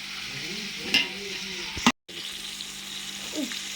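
Tomatoes with a little rock salt being stir-fried for seeraga samba chicken biryani, a soft steady sizzle with a few scraping stirs of the spatula and a brief dropout, no talking.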